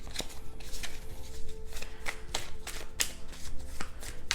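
Tarot cards shuffled and drawn by hand, a run of crisp riffling flutters and sharp snaps recurring every half second or so, close and fairly quiet.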